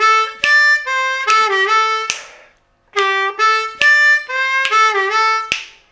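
A D harmonica plays a riff twice, each pass a bright, reedy run of short notes ending in a breathy fade, with a brief silence between the repetitions.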